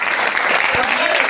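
An audience claps at a live university stage performance of the play Charan Das Chor: a dense, loud burst of applause from a crowd, sustained throughout.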